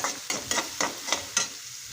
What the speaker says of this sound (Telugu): మిరపకాయలు అయితే బాగా వేగిన తర్వాత ఇందులోనే మనం కట్ చేసుకున్న ఉల్లిపాయలు అయితే వేసేయండి. వేసేసేసి ఒకసారి బాగా కలిపేసేయండి.